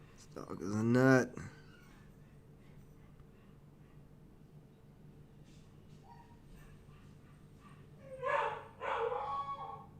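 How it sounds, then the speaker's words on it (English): A dog barks indoors with a sharp nearby bark at the start and another burst of yips later, separated by a quiet stretch with light background clicks. "See if I can get Sam to come in here and stop barking"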